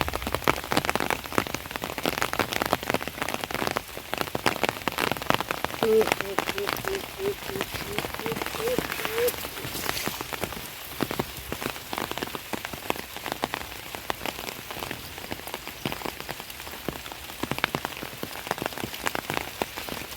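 Rain patters on surfaces outdoors beside a tuberose field in the morning, a close, crackly stream of individual drops with uneven bursts throughout, steady from start to finish.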